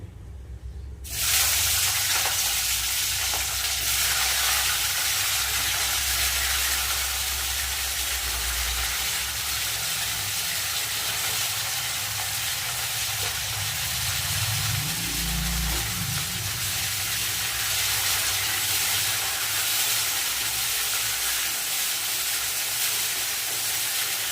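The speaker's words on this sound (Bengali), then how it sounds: "এবার আমি ফুলকপি আর আলুটা ভেজে নেব তো ফুলকপিটা আগে দেবো" Cauliflower frying in hot oil in a pan hisses and sizzles steadily and close for over twenty seconds, with a brief bubbling swell midway and no talk.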